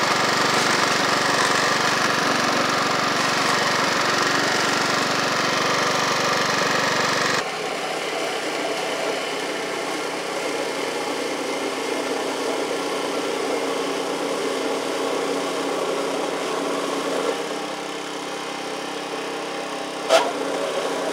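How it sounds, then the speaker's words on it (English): A two-stage snowblower fitted with an impeller kit runs steadily while throwing slushy snow, its engine a loud continuous drone that drops to a lighter, lower hum partway through, with one brief sharp knock near the end. "I'm gonna show you guys doing that with the two-stage and not getting clogged."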